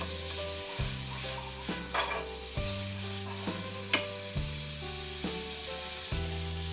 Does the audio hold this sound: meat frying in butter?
yes